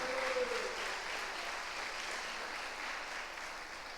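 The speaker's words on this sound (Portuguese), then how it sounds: "merece aplauso, irmão, merece aplauso" A church congregation at a family service claps in a steady wash of applause heard from a distance, with a brief voice at the start.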